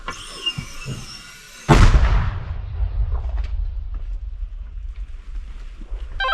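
A single loud, deep boom of a Ukrainian mortar crew's shot bursts after quiet, followed by a long rumbling echo and wind noise.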